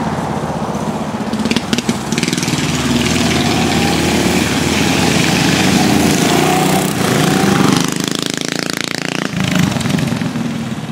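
Mini bike engines race with a continuous buzzing drone that rises and falls as the bikes pass, loud and near throughout, with a brief dip in intensity toward the end.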